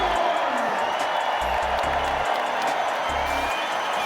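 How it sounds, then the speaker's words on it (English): A basketball arena crowd at a Division I road game at San Diego State fills the space with a dense, steady roar of chatter and cheering before the national anthem. "here is the crowd right before the national anthem when things really started filling in"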